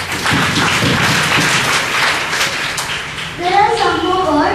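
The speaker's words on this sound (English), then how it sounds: "Give us a big clap." An audience, likely schoolchildren in a classroom, claps together in a big, dense burst of applause for a few seconds before a voice and other voices rise at the end.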